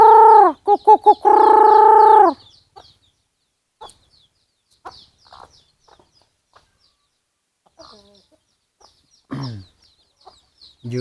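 Chickens clucking on a farm, a loud close burst at the start followed by scattered softer clucks and calls with quiet gaps between.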